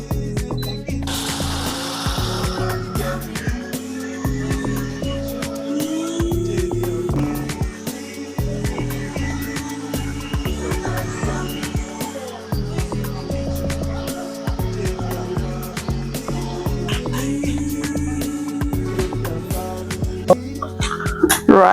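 A blender on its grind setting pulps plantain for homemade fufu, a loud, continuous motor drone with shifting pitch and labouring chatter that carries on for over twenty seconds.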